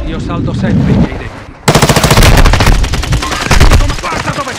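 Loud, rapid bursts of machine gun fire in Call of Duty: Warzone 2.0 rattle almost continuously, with a short lull early on.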